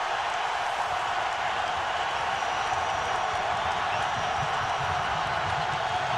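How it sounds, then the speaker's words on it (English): Basketball arena crowd at a Tennessee versus Florida college game cheering and clapping, a steady dense roar of many voices that holds evenly without breaks. "the crowd for the first time into it"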